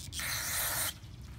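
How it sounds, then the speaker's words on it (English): Carb cleaner sprays in one continuous hissing burst of just under a second into the float bowl of a Troy-Bilt TB110 mower's carburetor, loud and close, then cuts off abruptly. "I'm gonna spray out the bowl here with some carb spray."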